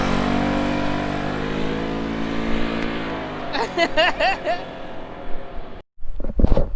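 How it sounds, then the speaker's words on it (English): Car engine revving hard during a burnout, a steady droning roar with rising and falling pitch, while people whoop and shout excitedly over it. "Do a burnout!"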